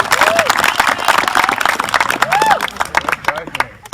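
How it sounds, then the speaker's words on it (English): Applause at a wedding reception during the speeches, a sustained round of clapping and cheering from guests with whistles and crowd voices mixed in, close and loud throughout. "applause."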